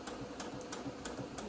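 Sewing machine stitching a fly zip into fabric and running over the zip teeth, giving five evenly spaced mechanical thumps with a soft whirring between them, close and moderately quiet, with no talking.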